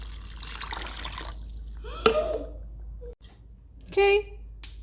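Water pours into a pot to start piloncillo syrup for buñuelos, a trickling, splashing stream at the start that thins out, followed by a couple of short clinks and brief pouring bursts in a quiet kitchen.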